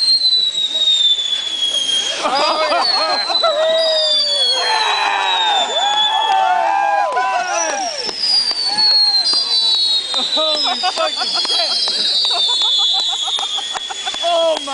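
Fireworks whistle and crackle at a New Year's ball celebration, with rising shrieks, pops and sizzling bursts filling the air continuously while people cheer and talk excitedly nearby.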